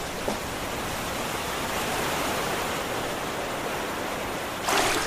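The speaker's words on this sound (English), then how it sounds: "I can hear the river that way" A river flows steadily nearby, a constant broadband rush of water running alone at even loudness, with a faint brief knock near the start and a slightly louder swell at the very end.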